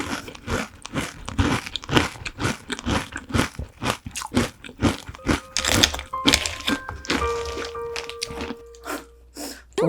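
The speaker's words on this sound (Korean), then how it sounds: "약간 이게 맞는 건가 싶긴 한데 팥 시리얼 이렇게 잘 먹겠습니다" Close, loud crunching of red bean flavored Chex cereal being chewed, a steady run of crisp bites and chews with no talking.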